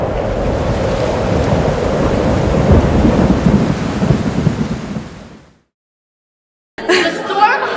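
Heavy rain pours in a dense, continuous roar with rumbling thunder during a wedding-day storm, loud and steady for several seconds before cutting abruptly to silence, then a brief burst of other sound.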